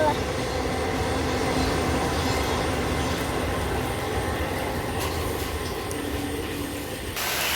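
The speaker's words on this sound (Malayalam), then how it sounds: "താഴെ ട്രെയിനൊക്കെ പോകുന്നുണ്ട് കേട്ടോ" A train rolls past on the railway just above rain-soaked paddy fields, with a constant heavy rumble and faint wheel squeal, steady and loud for the whole stretch.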